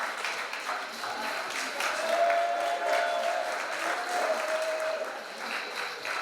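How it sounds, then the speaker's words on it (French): Audience applause for the under-18 and under-20 podium at a French Cup climbing competition final in Chambéry, steady sustained clapping from a crowd that swells slightly midway and holds for several seconds. "vous pouvez les applaudir bien fort"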